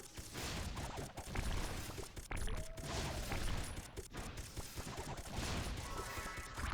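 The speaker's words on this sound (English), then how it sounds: "Yeah, those turrets do work, man." Automated turrets firing at a boss in the survival video game Stand Survive, a dense, continuous rattle of rapid gunfire and impacts at moderate loudness, with no voices.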